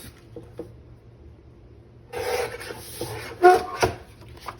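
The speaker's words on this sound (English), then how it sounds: "So let's trim that part off." Paper being trimmed for a digital junk journal flap: a quiet stretch, then a burst of dry rustling and scraping from about two seconds in, with a few sharper cutting snips near the end, close and fairly soft.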